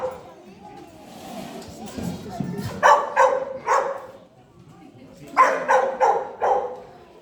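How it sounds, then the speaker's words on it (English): Sheepdogs bark in two bursts of sharp, evenly spaced woofs while sheep are moved through pens at a farm shearing show, with crowd and handler noise in between. "whenever we move the sheep, of course, we use our dogs."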